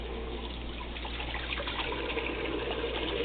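Cheese curds cut into slices are lowered back into a pot of 100-degree water for homemade cheddar, giving a steady close trickling, sloshing water sound with no talk.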